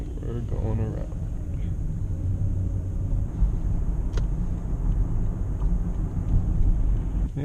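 Road noise inside a 2006 Toyota Avalon XL while driving, a steady low rumble of tires and engine that runs throughout, with speech heard near the start.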